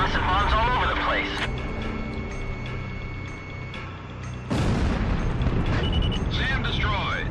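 Bombs dropped across a battlefield in the combat flight game Ace Combat Zero burst in heavy, rumbling explosions, with a fresh loud blast near the middle, while in-game radio voices talk over the roar.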